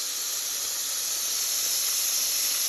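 Celery, onion and garlic liquid hits a hot Dutch oven pan to deglaze it, giving a loud, steady steam hiss that stays strong for about three seconds.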